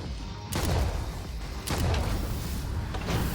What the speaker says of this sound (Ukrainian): Треба цією зброєю і стріляти по двигунах